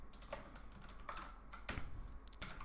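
Quiet, close typing on a computer keyboard: irregular light key clicks in short bursts with soft pauses between, alone without speech.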